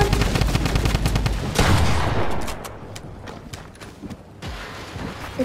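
Rapid drum gun fire in the video game Fortnite, dense close bursts of repeated shots that thin out into scattered single cracks, with no talk over them.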